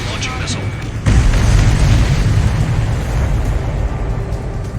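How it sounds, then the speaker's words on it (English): A missile launch followed by a heavy booming explosion in the jet combat game Ace Combat 7, a sharp onset then a sustained loud roar rumbling on. "Spare 15 launching missile."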